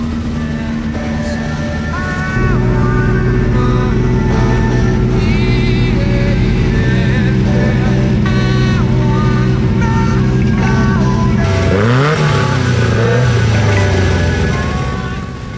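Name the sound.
off-road race cars at Colo Park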